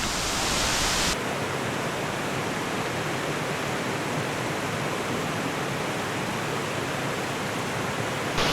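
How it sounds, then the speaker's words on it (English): Massive waterfall at Springbrook National Park in Queensland, a steady loud broadband roar of falling water heard up close, with a brief brighter hiss at the start. "There's not too many places where you can walk literally behind massive waterfalls like that."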